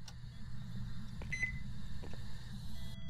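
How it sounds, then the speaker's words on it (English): Short electronic beeps sound inside a haunted house in the Phasmophobia VR ghost-hunting game, a faint tonal blip over a steady low hum and game ambience, with no talking. "I just heard beeping."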